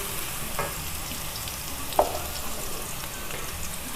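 Steady sizzling of one tablespoon of garlic ginger paste frying in a hot pan, with a brief clink of a utensil midway.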